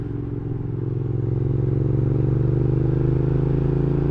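A Triumph Scrambler 865 motorcycle with an air-cooled twin, free-flowing air filter and altered exhaust idles steadily, its deep, even exhaust burble swelling a little and then holding loud and close with no talk.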